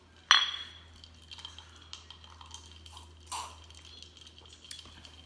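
Glasses of Irish whiskey with ice touch together in a toast, giving one sharp, bright clink near the start, followed by faint, scattered small taps and a second softer clink in a quiet room.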